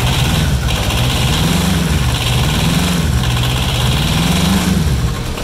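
A small diesel engine on an Arctic Cat 700 Diesel ATV idles steadily up close, a low rumbling chug with a slow rhythmic waver in its pitch, continuous with no voices.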